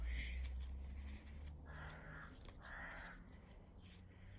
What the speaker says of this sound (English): I think you hear the crows.